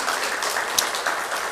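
Applause from a church congregation fills the sanctuary, a steady wash of clapping hands that holds evenly from start to finish.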